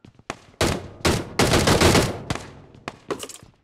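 Bursts of gunfire during a fight in the battle royale game BGMI: several sharp rapid volleys and single shots in an uneven stop-start rhythm, close and fairly loud, separated by short gaps.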